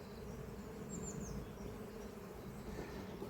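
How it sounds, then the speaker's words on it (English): Honey bees buzz steadily at a hive entrance during a honey flow, a continuous, fairly quiet drone with no pauses and no voices. "These bees do sound a bit quieter coming in"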